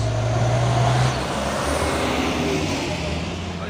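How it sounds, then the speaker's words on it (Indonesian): A Mercedes-Benz Axor trailer truck hauling an isotank rumbles through roadway traffic, a low steady engine drone with a brief deeper tone at the start, close and continuous with no talk. "masuk lagi satu nih truk trailer Mercedes-Benz Azor ini ya, membawa Isoteng"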